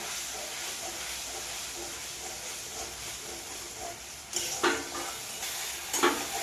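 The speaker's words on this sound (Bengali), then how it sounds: "আলুটা ধুয়ে একটু জল দিয়ে দিচ্ছি এবার বেশ কিছু সময় ধরে আমি ভালোভাবে কষিয়ে নেব" Potatoes and spices sizzle steadily as they are sautéed with a splash of water in a pan, a continuous hiss with a few louder bursts of stirring near the end, close and without talk.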